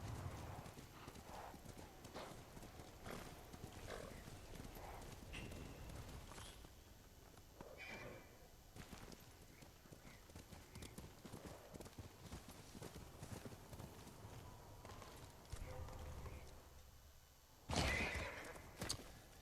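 Steady clip-clopping hooves of a galloping horse in Ghost of Tsushima run throughout, with the horse whinnying near the end and some voices and game noise underneath.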